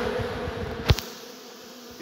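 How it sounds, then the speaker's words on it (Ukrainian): A steady, close buzz of bees and drones humming continuously on hive frames, with a single sharp knock partway through. "Трутні там, бджоли тут."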